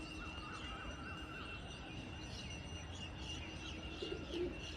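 Pigeons coo softly at a loft of long-bodied Giribaz birds, a faint, steady chorus of low cooing with a few brighter chirps near the end.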